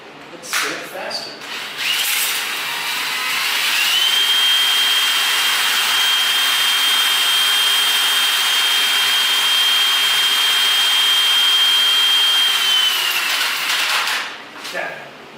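Power tool motor, apparently a drill turning a mixer in concrete work, spins up to a steady high whine that holds for about nine seconds, then winds down, with faint handling noise at start and end.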